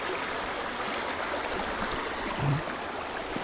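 A clear mountain stream near Marble, Colorado, flowing toward the Crystal River, rushes steadily and close by, a dense continuous wash of water with no pauses across the whole stretch.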